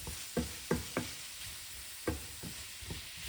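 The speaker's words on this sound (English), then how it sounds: "we'll continue to let this cook on slow" Onions, peppers, garlic and spices for shakshuka cooking slowly in a pan, a soft steady sizzle broken by several sharp spatula scrapes and stirs, close up and fairly quiet, with no one talking.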